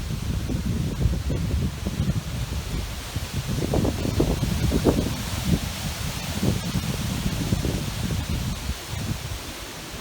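Steady wind roars through trees with rustling leaves, a continuous broadband whoosh that swells and gusts over about ten seconds with no voices.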